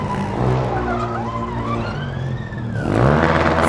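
A Formula Student race car on an autocross track at Hockenheim revs and accelerates loudly, its engine pitch sweeping up and down through gear changes, and swells near the end.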